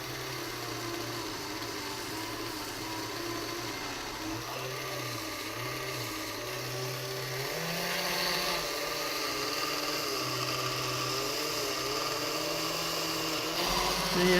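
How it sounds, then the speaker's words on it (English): A small homemade micro sander runs steadily against a piece of aluminum, giving a continuous motor whine and abrasive grinding that shifts in pitch as pressure changes, loud and close with no talk. "See, it sands."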